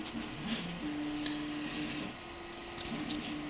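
A small toy robot's motor held close, giving a faint, steady low hum with slight mechanical ticking and shifting whine, continuous and quiet without any talking.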